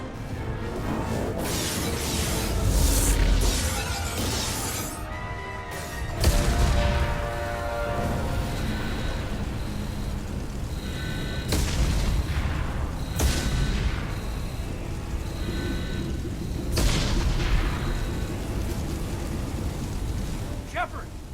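Explosions and crashing impacts rumble aboard a spaceship under attack in the Mass Effect 2 video game, with repeated booms and alarm-like tones under urgent voices.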